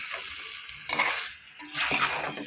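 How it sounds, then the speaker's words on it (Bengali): Masala chicken seasoned with salt and a little sugar, stirred and fried in a pan: two bursts of sizzling and scraping over a low background hiss, close up, with no voices. "ভালো করে নেড়ে চেড়ে কষিয়ে নেব।"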